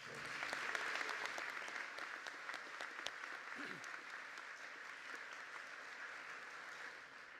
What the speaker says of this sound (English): Please give our platform party a round of applause.